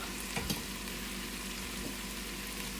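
Thin-sliced oxtail cooking in a pot for a Jamaican-style meal, giving a soft, steady sizzle with a couple of faint clicks near the start and no voices.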